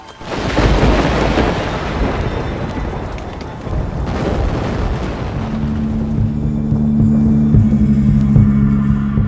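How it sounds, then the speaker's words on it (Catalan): Heavy rain hisses over a deep rolling thunder rumble that swells and fades, with a low droning tone emerging toward the end; no speech. "L'aigua del mar s'escampa i cau en forma de pluja."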